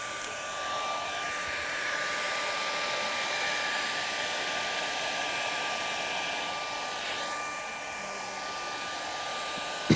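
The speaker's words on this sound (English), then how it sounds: "I've got a second hairdryer here. This one's got a little bit more power." A more powerful hair dryer blows with a steady, airy whoosh and a thin high whine, running continuously without a break, used to dry paint during a painting demonstration.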